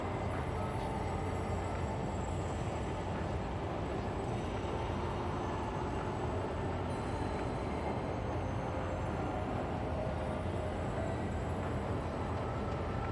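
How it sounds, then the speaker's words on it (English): A tram in the video game Star Citizen rolls into a station with a steady, dense low rumble and mechanical drone, loud and continuous throughout with no talk over it. "Trap now approaching."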